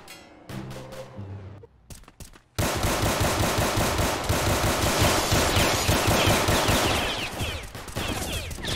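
Gunfire in an online shooter game: a few sharp shots at first, then a long continuous burst of rapid automatic fire that stays loud and close for several seconds.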